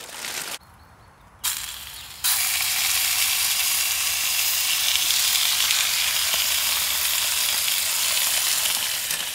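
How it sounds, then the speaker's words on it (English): Bacon strips sizzle in a frying pan at an outdoor camp cookout under a tarp, a loud steady hiss that starts after brief clatter and then holds continuously and close. "I'm going to get the bacon on now."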